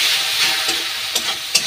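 Red chilli powder and spice masala fry in a pan for a Mughlai paratha side dish, a loud close sizzle with a few sharp spoon scrapes as the mix is stirred, no talk.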